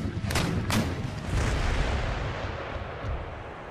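Cannon fire from an artillery battery in Empire: Total War booms without a break, rolling and overlapping into a dense, rumbling barrage with a few sharper cracks near the start.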